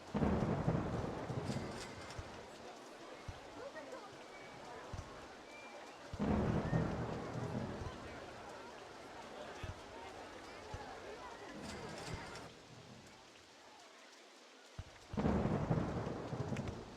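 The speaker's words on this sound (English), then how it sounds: "And it rains a ton here." Steady rain and repeated low thunder rumbles from a storm in Rollercoaster Tycoon on Xbox, with louder swells around the start, middle and end, and a voice talking over the weather.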